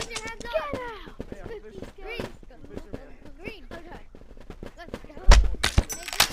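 Shotgun blasts from a video game ring out near the end, loud bursts following steady talk from players over game sounds.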